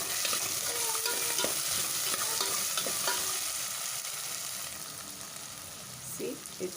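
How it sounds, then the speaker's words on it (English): Steady, crackling sizzle of garlic and potatoes frying in a pan, with occasional stirring clinks, continuous and close throughout. "See, it's frying very well."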